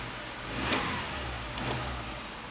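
A 2007 Subaru Impreza with the EJ20 2.0 engine running, a low steady hum broken by two brief rises in revs, faint and close.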